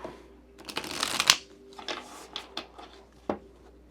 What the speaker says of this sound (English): I'm just shuffling on camera here.